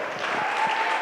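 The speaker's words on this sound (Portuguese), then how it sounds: "Dê um aplauso para Jesus, querido" A church congregation claps together in praise, a dense, even burst of many hands filling the room for about a second.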